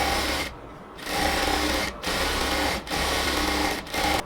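Sewing machine stitching a second seam along the other side of a pair of ladies' pants, running in four steady bursts separated by short pauses, close and clear with no talking.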